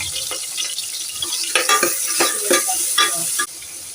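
Onions and green chillies sizzle in hot oil inside a pressure cooker, a bright crackling fry broken by several sharp scrapes and stirs of a spoon against the pot, close and loud.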